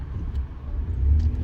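A new pickup truck fitted with a Corsa exhaust idles with a steady, low rumbling drone, close and continuous throughout, with no talking.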